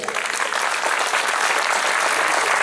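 Loud, dense audience applause for a singer at an outdoor Fête de la Musique concert in Bayeux, a continuous roar of clapping that holds steady throughout.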